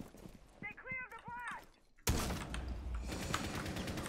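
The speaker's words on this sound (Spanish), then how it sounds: "la escopeta de Buck" Buck's shotgun in Rainbow Six Siege fires a single loud, close blast that cuts in suddenly after brief quiet chatter and short tonal beeps, followed by a dense ringing wash of noise.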